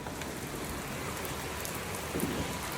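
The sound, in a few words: light rain falling by a creek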